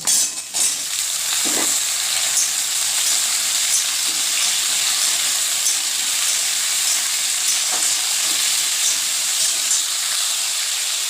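Steady, loud sizzling of potatoes and pointed gourd frying in a little oil, a constant close hiss with a few faint stirring knocks.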